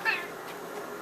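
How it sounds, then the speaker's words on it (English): A bobcat gives one short, fairly close meow at the start, then only quiet room sound follows. "I can make him meow."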